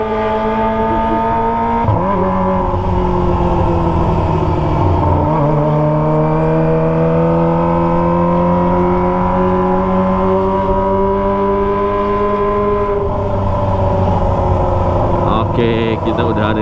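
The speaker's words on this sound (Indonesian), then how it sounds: "Dengan kita gas RPM tinggi tuh bisa menghilangkan rasa pusing di kepala" A Kawasaki ZX25R motorcycle with a Toce exhaust screams loud and close at high RPM, holding long sustained revs with a couple of dips before climbing again, while riding through town.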